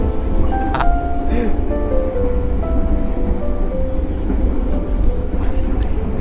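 Steady rumble of the Kahuripan passenger train in motion between Yogyakarta and Blitar, a constant low rolling drone with faint rattles and squeaks throughout.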